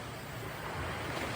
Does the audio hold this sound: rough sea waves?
yes